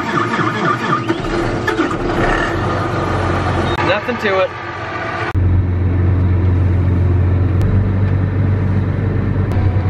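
A cold, unplugged tractor engine cranks and catches, then settles into a loud, steady low rumble at close range. Someone speaks briefly before it fires up.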